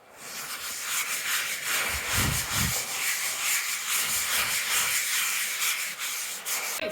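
Drywall is sanded by hand in a downstairs room of a barndominium, a continuous close scratchy rubbing with rhythmic back-and-forth strokes and a few duller thumps.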